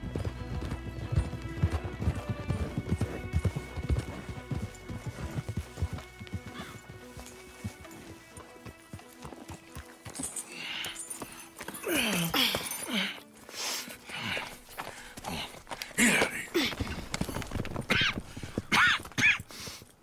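Horse hooves clip-clop steadily over a musical backdrop in the video game Red Dead Redemption 2, with a horse whinnying and snorting near the end amid louder rustling activity.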